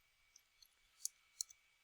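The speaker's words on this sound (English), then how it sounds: "Oh my goodness, Mr. Brown, clicking all over the place." A computer mouse clicked a few times, sparse, soft, close clicks with gaps between them, faint against a quiet background.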